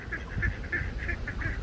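Small ducks on a pond give a string of steady, rhythmic quacks and honks at moderate distance, with no talking over them.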